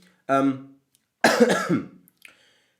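A single harsh cough up close, preceded by a short vocal sound and followed by quiet.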